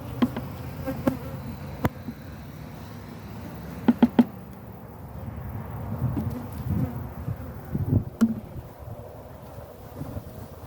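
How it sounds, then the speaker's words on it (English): Bees buzzing around a defensive hive during honey pulling, a close, continuous drone with individual bees zipping past the microphone in sharp bursts, over light wind noise. "Go away, bees."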